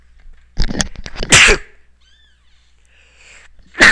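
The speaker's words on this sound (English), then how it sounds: "I'm going to have to sneeze just a minute." A single sharp sneeze, preceded by a few quick breathy bursts, close to the microphone, followed by quiet and a faint second burst at the end, during racing-game commentary.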